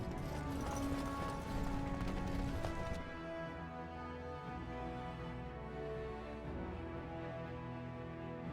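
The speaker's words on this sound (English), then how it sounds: "Horse. Yes." Horse hooves clip-clop in Dragon Age: Origins, a quick rhythmic patter of footfalls for the first few seconds before fading into a sustained musical game ambience.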